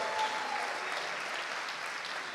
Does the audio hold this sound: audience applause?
yes